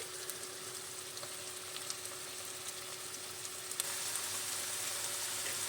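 Peppers sautéing in a pan for chicken sauté, a soft, steady sizzle at a faint level that grows slightly louder partway through, with no talking.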